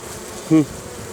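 A honeybee from an autumn swarm of young queens gives a single brief, close buzz that rises out of faint background hum and quickly fades.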